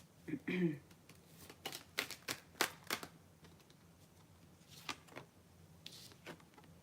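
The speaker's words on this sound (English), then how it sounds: "I'm having a hard time shuffling the cards now for some reason." Tarot cards being shuffled in a quick burst of crisp riffling snaps, followed by a few softer scattered flicks.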